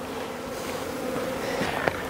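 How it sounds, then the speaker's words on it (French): A cluster of honeybees on the ground gives off a faint, steady buzz that holds for about two seconds, with one brief louder note near the end. "Alors, donc là, on a notre paquet d'abeilles par terre."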